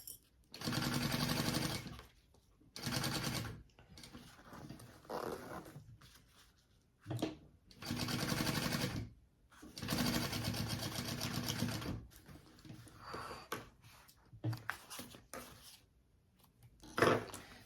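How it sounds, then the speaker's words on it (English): A sewing machine stitching bag pieces together runs in several loud, close bursts of rapid, even clatter, separated by short pauses and quieter handling sounds. "I'm actually doing a sewing stitch, sewing pieces together."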